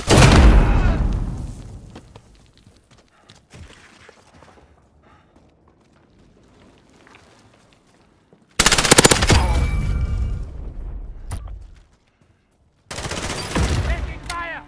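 Video-game gunfire in loud automatic bursts, a dense opening volley that trails off into quiet, then two more sharp sustained bursts later on, with no talking over it.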